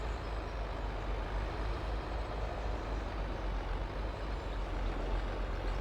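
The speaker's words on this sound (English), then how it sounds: "Let's watch me struggle to back a trailer" Steady, loud engine rumble from a farm vehicle in a farming simulator game, reversing slowly with a trailer hitched behind it, a continuous low drone with no talk.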